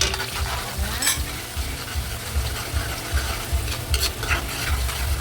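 Garlic and onion sauté in a hot pan with a steady sizzle, while a utensil scrapes and stirs in repeated rhythmic strokes and a few sharper clinks stand out.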